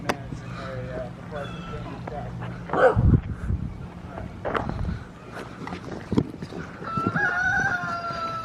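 Roosters and chickens crow and cluck among dogs, goats and ducks at a busy roadside spot along the Florida Trail, crowing clearly at moments over a steady low hum, with a dog barking in between.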